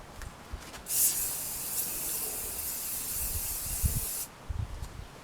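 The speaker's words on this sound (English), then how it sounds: "There's the rust spray with the inside." Aerosol rust spray hisses steadily for a few seconds as it coats the inside of medieval armour, close and loud, with small clanks of the metal before and after.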